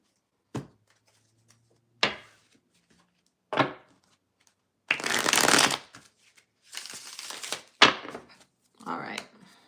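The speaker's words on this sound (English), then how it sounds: "Okay, one more shuffle." Tarot cards are shuffled in several separate bursts: sharp riffles and snaps, then longer fluttering shuffles, close and crisp with silences between.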